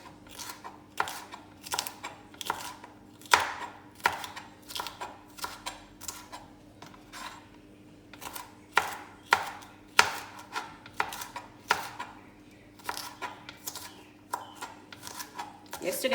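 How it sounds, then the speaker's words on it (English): A knife chops sweet pepper on a cutting board in steady, close, sharp strokes, repeating at an even pace with brief pauses between runs. "I'm going to go ahead and cut them up."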